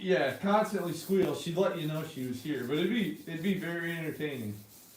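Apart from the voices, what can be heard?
None of the usual background noises is heard.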